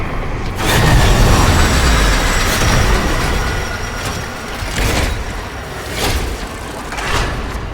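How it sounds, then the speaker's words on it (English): A train arrives in the video game Warframe, filling the scene with a loud, continuous rumble of rolling wheels and rail noise, with squealing metal and rhythmic clacks surging at intervals. "The next train is arriving."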